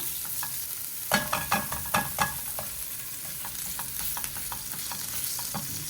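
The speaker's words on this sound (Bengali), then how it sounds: "এখানে ভেজিটেবলটারে আমি একটু ভাজি লাইম।" Mixed vegetables (carrot, sweet corn, peas and beans) fry in butter in a pan, a steady sizzle broken by a quick run of scraping stirs early on, then lighter taps and spatters, with no talking.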